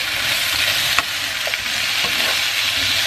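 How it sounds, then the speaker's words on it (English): Potatoes frying in a little oil hiss with a constant close sizzle while a utensil stirs them with soft scraping and clattering, and no talking is heard. "Now we're going to put these to fry with a little bit of oil. Just gonna stir it around a little bit."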